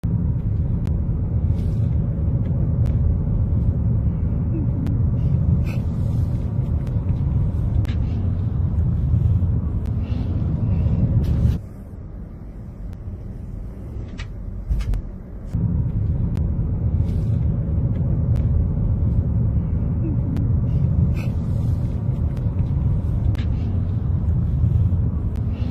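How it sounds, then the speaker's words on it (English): A car drives out through a wildfire zone, its heavy low engine and road rumble steady and loud with wind buffeting, briefly dropping quieter midway before returning. "these people are trying to drive out of this dangerous area"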